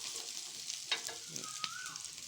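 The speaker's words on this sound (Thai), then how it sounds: "เมนูง่าย ๆ ทอดไข่ ทอดไข่นะคะ" Eggs frying in a pan for a Thai omelette, a steady bright sizzle with bubbling crackle and a few brief scraping stirs, close up and without talking.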